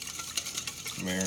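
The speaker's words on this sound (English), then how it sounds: "Go ahead and give that a little whisk. Make sure all that achiote breaks down." Quick metal whisk strokes stirring an achiote marinade for al pastor in a bowl, rapid scraping clicks close up, followed by a brief tonal hum at the end.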